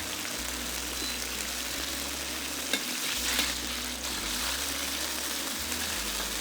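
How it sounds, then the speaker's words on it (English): Fish stir-fry sauce bubbling and sizzling in a hot pan, a steady close frying hiss with faint stirring scrapes running throughout, no voices. "turn up the heat and bring this all to a boil"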